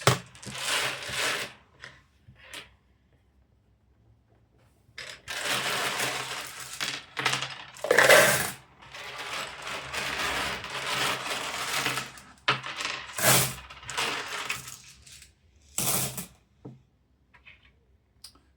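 Small 6mm glass pieces being sorted rattle and clatter in irregular bursts, some loud and some soft, with short quiet gaps between handfuls being dropped.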